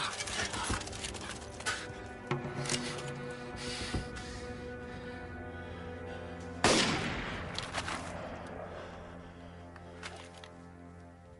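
A single musket-style gunshot cracks out sharply partway through and rolls away in a fading echo, following scattered scuffling and faint background sounds in a period battle scene.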